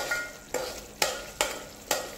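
Chili chutney sautéed in oil for Kolhapuri tambda rassa, a soft sizzle punctuated by four evenly spaced scraping stirs of a spoon against the pan, close and moderately loud with no talking.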